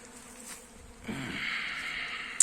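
Honeybees buzz steadily close by at a hive in January, a droning hum that swells partway through, with a brief sharp click near the end.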